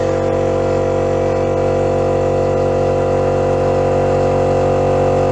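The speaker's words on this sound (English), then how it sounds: "my compressor going off nice and loud in the background" An airbrush compressor runs loudly and steadily up close, with a constant mechanical hum that does not change throughout.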